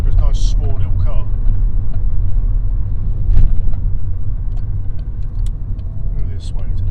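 A Skoda Roomster 1.2 TSI runs along a road with a low, steady engine and road rumble from inside the cabin, while someone speaks over it.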